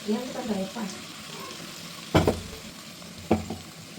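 Ground masala for country chicken curry fries and is stirred in a pan, a low steady sizzle running throughout with two sharper bursts of stirring and spoon scraping near the middle and end.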